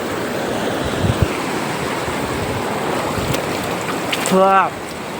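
River water flowing in a steady broadband rush, loud and close, with a brief voice and a short tonal call near the end.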